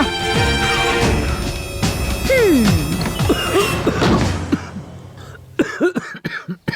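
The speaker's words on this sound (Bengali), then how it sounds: "এত কাশছো কেন তুমি?" Someone coughs harshly and repeatedly up close, with a few thumps and rustling noises around the fits of coughing.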